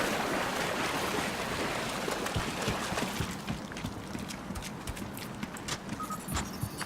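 Steady sloshing and splashing of a character wading through water in the Battlefield Hardline video game, a continuous watery rush that thins out slightly midway, with no talking.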